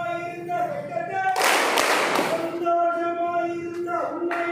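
A brief burst of group hand clapping during a joyful Tamil classroom action-song exercise, loud and dense for about a second, set against a steady sung melody.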